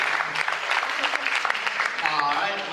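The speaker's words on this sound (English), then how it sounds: "one more round of applause for all the lady contestants tonight." Audience applause for the lady contestants at a 2015 Mr. & Ms. FACT cultural wear pageant, a steady moderate clapping crowd filling the room, with a voice talking over it near the end.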